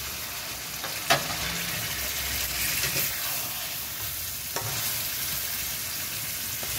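Koi fish fry in oil in a pan, giving a loud, steady sizzling hiss close up, with a couple of brief knocks from a utensil against the pan.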